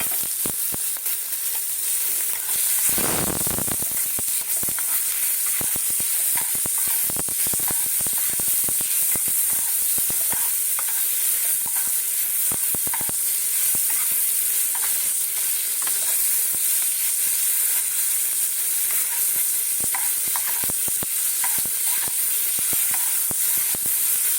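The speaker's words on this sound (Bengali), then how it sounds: "যে তেলে বড়ি ভাজলাম, চিংড়ি মাছগুলো দিয়ে দেবো" Prawns frying in hot oil left from frying lentil dumplings, a steady loud sizzle and crackle running throughout with no voices.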